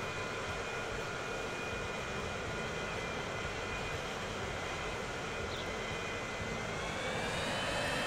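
Steady jet airliner engine roar from a Transport Fever 2 airport scene as a plane lands and prepares for takeoff, a continuous broadband rumble with a faint whine rising near the end, no talk.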